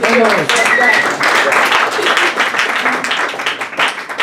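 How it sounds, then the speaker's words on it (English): Audience at a poetry reading night applauds with steady, dense clapping that stays loud throughout, while a few voices and cheers rise over it near the start. "Can we have another round of applause,"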